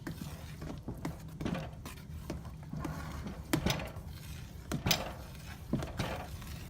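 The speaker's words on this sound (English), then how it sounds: "Once you add the raisins in the pot, you continue to stir it all in." A spoon stirring raisins into a pot, with soft scraping and occasional light clinks against the pot's side, quiet and irregular with no talking.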